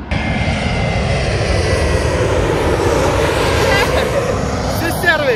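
A LOT airliner's engine roars at London Heathrow, a loud, steady, broadband drone that holds evenly for the full few seconds without fading.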